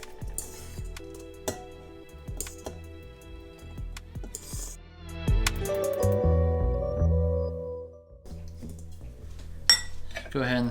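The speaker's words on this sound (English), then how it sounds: "So now that the rice is done, let's go ahead and throw it in a bowl." Cooked jasmine rice tipped into a bowl with metal utensils: clinks and scrapes of spoon against the dish, a run of close, moderately loud clatter with short gaps, and speech over part of it.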